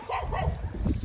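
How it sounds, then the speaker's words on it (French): A dog barks and whimpers in quick repeated bursts close by, agitated and insistent, with low rumbling noise underneath. "Là il aboie"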